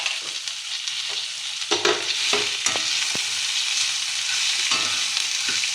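Pirandai chutney ingredients sautéing in a hot pan, a steady bright sizzle broken by irregular scraping stirs and soft clinks close by, with no talk.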